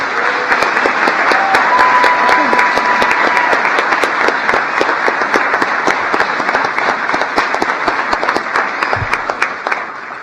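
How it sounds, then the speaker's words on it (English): A large audience applauds medalists at the 2023 International Medal of Arts ceremony, loud continuous clapping that holds steady for about ten seconds before easing slightly toward the end. "Let's give our medalists another round of applause."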